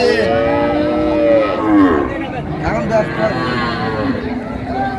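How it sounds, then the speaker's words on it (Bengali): A cow and her calf low loudly at a busy rural cattle market in Dinajpur, with drawn-out moos that rise over constant crowd babble and nearby talk. "গাভী বাচ্চা আমরা দেখছিলাম"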